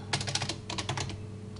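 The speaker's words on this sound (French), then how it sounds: "J'espère que vous entendez pas trop le bruit de mon clavier." Rapid clicking keystrokes on a computer keyboard, two quick bursts of typing close up with a short gap between them.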